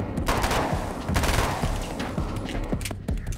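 Gunfire in Alan Wake's American Nightmare, a rapid run of sharp shots at close range, fairly loud and repeated in quick succession over game ambience.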